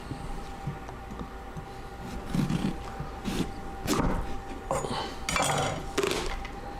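A knife cutting a pumpkin in half on a kitchen surface gives several scraping, knocking thuds and crunches, irregular and close, over a faint background hum.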